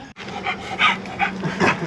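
A dog pants close by in rhythmic, breathy bursts beside a Ninebot Gokart Pro, with a short sharp gap early on and no talking.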